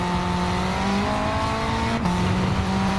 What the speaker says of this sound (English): When that turbo's boost kicks in